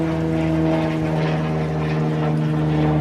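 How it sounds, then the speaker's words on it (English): Propeller planes droning steadily overhead near a backyard pool in the days before a Memorial Day weekend air show, a continuous low engine hum and buzz that holds loud and even throughout with no voices. "No, you hear the planes going by."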